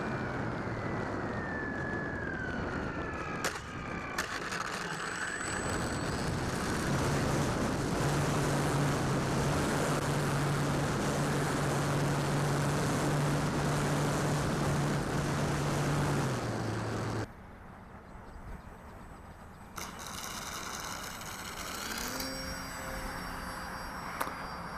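Dynam Scout RC model plane in flight, a buzzing electric propeller drone that rises and falls as it passes, loud and close for stretches, then fading farther off near the end.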